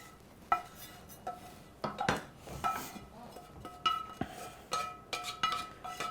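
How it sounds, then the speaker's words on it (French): A spoon clinks and scrapes against a bowl in an irregular rhythm while arancini ingredients with cheese and mushrooms are mixed, close and fairly quiet. "On va mélanger le tout."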